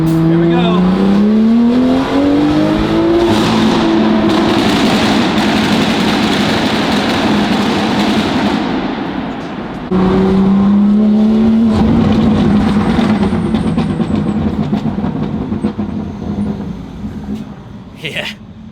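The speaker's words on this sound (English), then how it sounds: "Those backfires sound like literal gunshots." A Lamborghini engine revs hard and close, climbing twice in long loud pulls with crackling pops and bangs on the overrun, and voices talk over parts of it.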